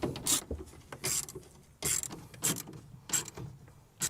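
Ratcheting and clicking from brackets being tightened down while installing a WorkSport SC4 Pro soft tonneau cover on a pickup bed, several short bursts of ratchet clicks separated by pauses, close and fairly quiet.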